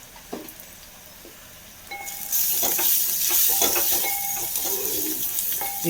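Crushed chilli tipped into onions frying in a pan for a Kerala sardine stir-fry: after a quiet start with a few clinks, a loud bright sizzle bursts up and keeps crackling steadily to the end.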